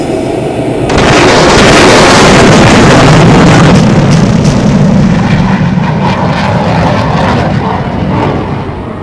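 Fighter aircraft attack sound effect in a film scene: a loud, dense roar swells in after about a second and stays heavy and sustained to the end.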